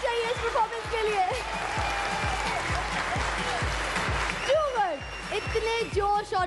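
Studio audience applauding a performance on a Pakistani TV show, a loud, sustained wash of clapping with a steady rhythmic beat pulsing underneath and voices calling out over it.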